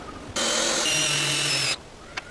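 A power drill drives a long greased screw into wood for a treehouse, running steadily for about a second and a half and then stopping, followed by a short faint click.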